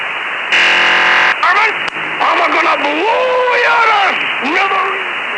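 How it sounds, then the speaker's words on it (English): A number station recording off a radio opens with a short, harsh, modem-like data burst, then shifts into a distorted voice talking through heavy shortwave noise and static. "See if you can spot that data burst."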